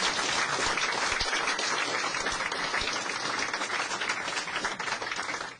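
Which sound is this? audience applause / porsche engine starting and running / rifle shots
audience applause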